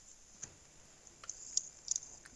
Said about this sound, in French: Jeanne, on entend ton clavier quand t'écris dans le chat